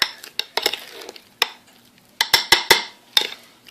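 Food being stirred in a bowl with a utensil, giving a series of sharp, close scraping and clinking strokes in irregular bursts, with short quiet gaps between them.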